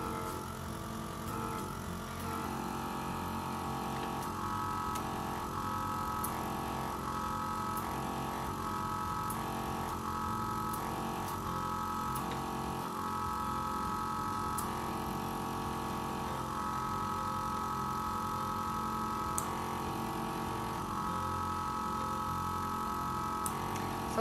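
A vacuum suction facial treatment device runs with a steady, continuous motor hum and faint rhythmic pulsing, close and even in level throughout, with no voices.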